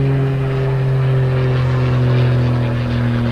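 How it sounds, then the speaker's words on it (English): An airplane passes overhead outdoors with a steady, droning engine hum that swells slightly and stays loud throughout. "That's a plane."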